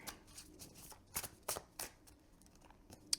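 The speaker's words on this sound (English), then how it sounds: "I swear I'm shuffling these." Tarot cards being shuffled close up, quiet riffling bursts and soft flicks in an irregular rhythm, ending with a sharp snap.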